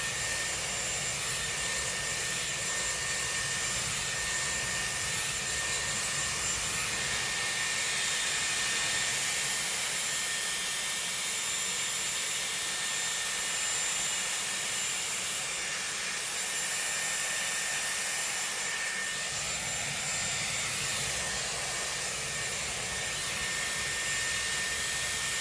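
A Dyson Airwrap with a 20 mm barrel blows hot air while drying and curling hair into soft waves, a loud, continuous whooshing roar with a steady high whine, held close and unbroken throughout.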